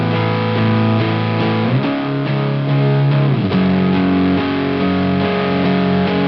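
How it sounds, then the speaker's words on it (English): Thick, fuzzy distorted electric guitar chords ring out loud and sustained, shifting pitch partway through over a heavy wash of effects. "I'm introducing some electric guitar here."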